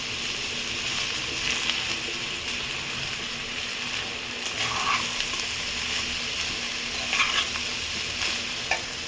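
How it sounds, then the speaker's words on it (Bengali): Rice and egg being stirred and fried together in a pan for fried rice, with a steady close sizzle and occasional scraping clinks of a spatula, no one talking. "তো এখানে ভাত আর ডিমটা আমি একসাথে রেখেছি, এটাও দিয়ে দেবো। এটাকে নাড়াচাড়া করবো বন্ধুরা।"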